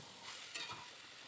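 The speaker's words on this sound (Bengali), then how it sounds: "এটাকে এবার ভালো করে কষাতে হবে এরকম করে নাড়তেই হবে" Diced potatoes and soybean chunks stirred and fried in a pan, a brief, quiet sizzle with one scrape of the spoon.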